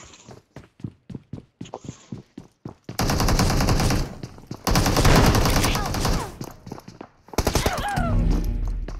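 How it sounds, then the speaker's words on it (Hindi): Gunfire in the BGMI battle royale game, with a string of separate sharp shots followed by dense, loud bursts of rapid fire that continue in stretches with short pauses between them. "बहुत लो चलती है यार ये शॉटगन।"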